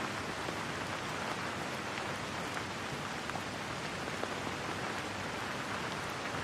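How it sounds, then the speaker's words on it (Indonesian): Steady rain falls in a dense, even hiss of countless drops on a surface, continuous and fairly close with no voices or other sounds. "Biarin suara hujan ini aja yang ngebantu kamu buat lebih tenang."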